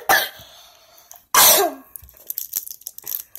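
Two harsh, loud coughs burst out close by, separated by a pause, followed by faint rustling and small mouth sounds.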